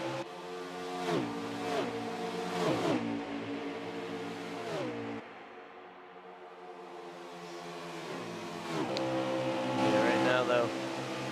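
Race car engines on an oval track roar past in loud waves, pitches sliding down as cars pass, with layered harmonic whine from several engines at once.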